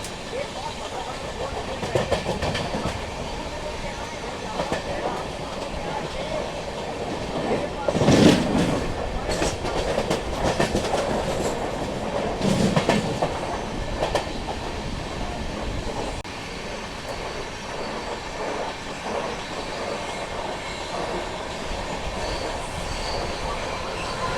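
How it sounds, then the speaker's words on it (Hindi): The Mahabodhi Express rolls steadily along the tracks, with continuous rumbling wheel noise, rhythmic clatter and occasional squeals heard from inside the moving train, fairly loud and unbroken for the whole stretch. "सुबेदारगंज रेलवे स्टेशन को फिलहाल अपनी ट्रेन स्किप करने वाली है।"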